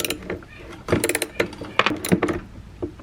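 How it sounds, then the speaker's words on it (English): A wrench and socket work a brake line fitting in a series of short, close metallic clicks and scrapes, irregular ratcheting taps bunched in quick bursts with brief pauses between. "7/8" wrench and a 9/16 socket"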